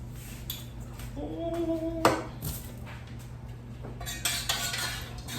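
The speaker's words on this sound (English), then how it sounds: "We gotta stir for 2 minutes" A utensil stirs melted candle wax in a container, with light scraping and clinks, one sharper knock midway, and a brief tonal squeak over a steady low background hum.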